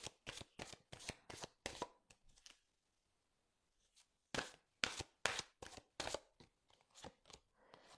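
Angel oracle cards being shuffled and drawn, giving quick bursts of riffling and flicking card sounds in two close, distinct runs separated by a short pause.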